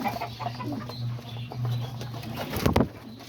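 Homing pigeons flying around a loft, with scattered low cooing and a quick burst of flapping wings near the end, close and fairly loud, with no talking.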